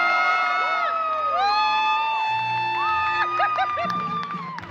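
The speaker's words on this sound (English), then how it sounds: "Keep those hands clapping for Anthony's grandmother, Teresa Gucci." Wedding reception guests cheer and whoop loudly in a sustained burst, with shouting voices rising and falling throughout.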